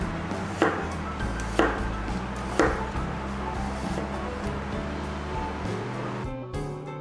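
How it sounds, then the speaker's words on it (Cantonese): A knife slices peeled garlic cloves on a cutting board, with three crisp, evenly spaced chops about a second apart, close and clear over a constant low background hum. "5瓣蒜頭去衣切片"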